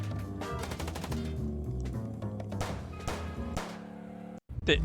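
Repeated gunshots in a video game, a fast run of sharp shots over busy game sound and music, loud and close.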